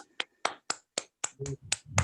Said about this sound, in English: A round of applause, please, and a standing ovation for our guests.